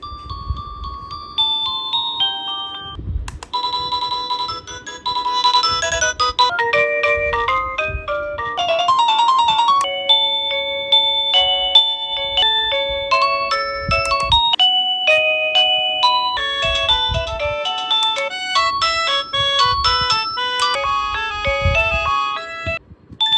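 A wireless doorbell cycles through a series of electronic melody tunes, bright beeping notes playing one after another without pause, loud and close.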